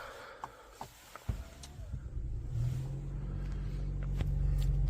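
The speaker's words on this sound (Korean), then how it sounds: "저희 시동을 걸어 보겠습니다" A 2025 Mercedes-Benz E 300 Exclusive starts from inside the cabin: a few soft clicks, then the engine turns over and settles into a low, steady idle hum that grows slightly louder, no talking.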